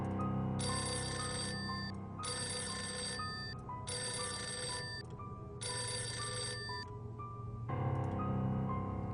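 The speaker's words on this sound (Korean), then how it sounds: "같이 있던 한 친구 폰으로 전화가 오는 것이었다" A phone rings in repeated electronic bursts, each followed by a brief pause, steady and moderately loud with no voices.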